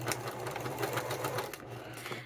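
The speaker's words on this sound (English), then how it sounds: "My sewing machine wants to eat the edge." A sewing machine stitches in a fast, steady whir, close and fairly quiet, with no talking.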